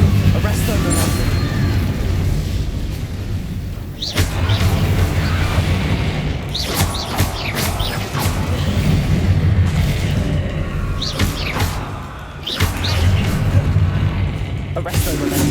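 Fire spells cast in Hogwarts Legacy, a string of booming bursts and blasts at about 4, 6.5, 10 and 12.5 seconds over steady game music and effects, with a voice calling out spell names.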